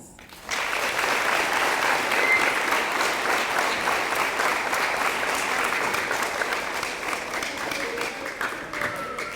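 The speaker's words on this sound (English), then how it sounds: "So for that, they deserve a big round of applause." A crowd at a high school spring letter of intent ceremony gives graduating seniors a big round of applause: sustained, loud, even clapping that starts abruptly and holds for several seconds before easing slightly.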